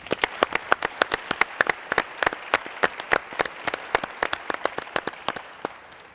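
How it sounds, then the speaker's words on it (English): Scattered audience applause at the Earl Lloyd Sports Legacy Award symposium hosted by the Memphis Grizzlies: a modest crowd claps in a steady, crisp patter for about six seconds with no talking, then fades out. "a round of applause for Lisa Leslie."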